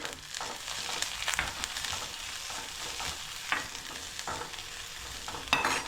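Green onion and regular onion fry in a pan for sweet corn soup, stirred with soft intermittent scraping over a quiet, steady sizzle, fairly faint and with no voices.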